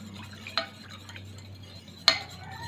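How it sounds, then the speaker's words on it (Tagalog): Stirring a coffee jelly mixture in a pot: a quiet steady background with two distinct clinks of a utensil against the side. "Haluin natin."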